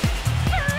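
Wolf puppy barking in the video game Dicey Dungeons: a couple of short, close yips and bow-wows in quick succession over a steady game background.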